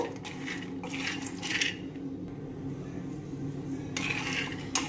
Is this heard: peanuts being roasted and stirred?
yes